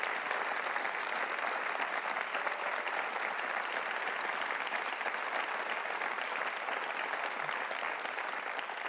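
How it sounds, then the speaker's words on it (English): Steady, dense applause from a crowd fills the whole stretch at an even level, continuous clapping with no pauses and no one speaking over it. "Cue applause."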